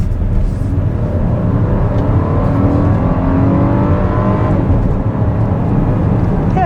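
A 2021 VW Atlas engine pulls steadily under acceleration, heard from inside the cabin as a continuous hum blended with road noise, rising slightly in pitch before easing off.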